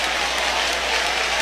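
Church congregation clapping together, a continuous thick patter of many hands at an even level throughout.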